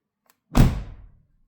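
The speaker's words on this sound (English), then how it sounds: "when I closed the door, it actually sounds a lot more, I don't know how to say it, maybe more solid" A BMW X1 F48 car door swings shut after sound-deadening work, one solid, dull thunk close by with a short low rumble fading out within half a second, no voices.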